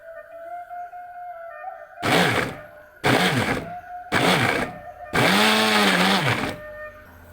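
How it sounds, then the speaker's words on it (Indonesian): A kitchen blender grinds the spice paste for soto padang in four loud bursts, the last one longest. Each burst rises to a whirring roar out of a quieter steady hum, with no talking. "Di blender ada bumbu yang perlu dihaluskan di sana."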